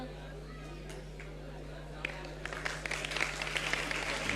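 Scattered clapping from listeners at a religious discourse starts sparse and grows into a denser patter, heard faintly over a steady electrical hum.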